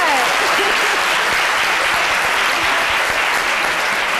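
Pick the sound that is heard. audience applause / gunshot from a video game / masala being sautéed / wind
audience applause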